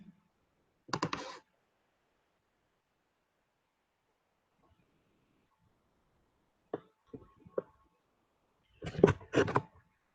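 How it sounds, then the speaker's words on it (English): A few sharp computer mouse clicks while launching a cloud server instance, with one short burst early on, then several separated clicks and a final cluster, each close and distinct against near silence. "Just click on launch instance."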